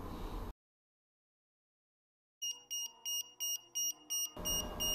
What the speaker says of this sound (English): Now all you have to do is turn off the circuit to stop this buzzer.